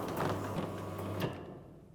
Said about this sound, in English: Then close the door by approximately 300mm.